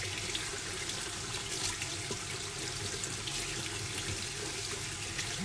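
Cold tap water runs in a steady, even stream while felted wool is rinsed under it, a continuous close splashing rush with no voices.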